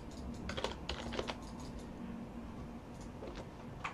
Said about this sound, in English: we type tint2, let's see what happens